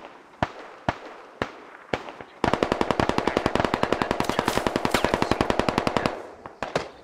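Gunfire in the tactical shooter game Squad Ops: several spaced single shots, then a long rapid automatic burst of evenly paced loud reports, followed by a few more scattered shots, with no talking.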